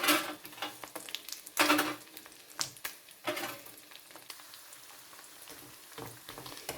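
Chicken skins fry in a pan on an electric stove with the heat turned down, sizzling steadily with bursts of louder crackle and spatter as they are stirred and moved about.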